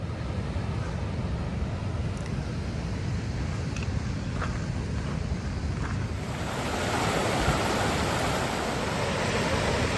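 Rushing mountain stream at a water crossing on the Pacific Crest Trail near Glen Pass, a steady dense roar of flowing water with wind buffeting the microphone, constant and close, no voices.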